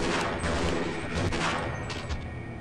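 Two or three sharp gunshots fired in the video game Half-Life, loud and close, with short percussive bursts spaced across a brief span and no talk over them.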